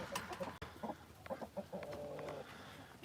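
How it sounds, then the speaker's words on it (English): Roosters in a farm pen give short, faint clucks and low calls in brief bursts, with quiet outdoor background and no clear crowing. "this is another rooster pen"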